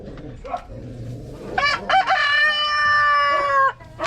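Rhode Island Red chickens being fed cabbage in their coop: soft clucks and farmyard rustling, then a loud, close rooster crow ringing out for about two seconds before cutting off.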